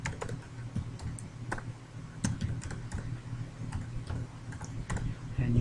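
Light clicking of keys on a computer keyboard, a quick irregular patter of soft taps in a quiet room over a steady low hum.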